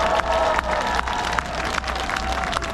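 A large outdoor rally crowd in front of the National Assembly in Yeouido, Seoul, applauds a student. Dense, loud, continuous clapping and crowd noise carry a low electrical hum throughout.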